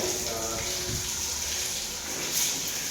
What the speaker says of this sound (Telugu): ఇంకా స్విమ్మింగ్ అయిపోయిన తర్వాత మేమైతే రెస్ట్ రూమ్ కి వచ్చి షవర్ అయితే చేస్తున్నాము.